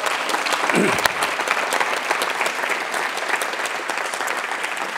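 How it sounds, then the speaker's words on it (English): Audience giving a round of applause for a panel at an evening community conversation on King County's heroin epidemic, dense sustained clapping filling the room throughout, loud and continuous with a brief voice near the start. "Round of applause for our panel tonight."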